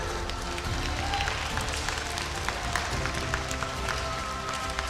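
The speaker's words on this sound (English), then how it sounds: "I think we should have a good round of applause for them." Spectators at a FIBA U18 Asia Cup SABA qualifiers basketball final give a sustained round of applause. Sharp individual claps ring out over a steady crowd wash with moderate loudness.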